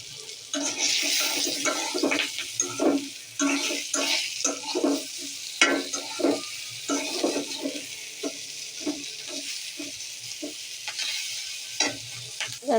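Chopped green chillies fry in a pan with pointed gourd and are stirred steadily. The sizzle runs continuously, broken by irregular scrapes and clatters of the spoon, close and fairly loud. No one speaks.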